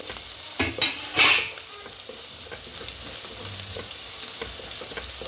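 Soft, continuous sizzling of cubed onions sautéing in a pan, with a few sharp scraping clatters near the start.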